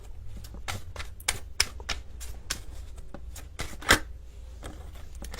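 Tarot cards being shuffled, a run of quick crisp flicks and snaps with irregular rhythm and one louder slap near the middle, close and alone without speech.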